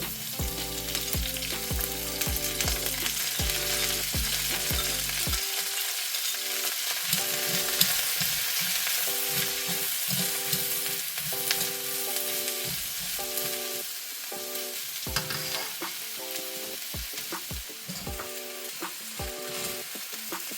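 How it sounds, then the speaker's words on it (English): Vegetables stir-frying in hot oil for chao mian: a constant loud sizzle with repeated scraping and tossing strokes of a spatula in the pan, steady throughout with music-like tonal sounds underneath and no talking. "add some more oil, add the vegetables into it"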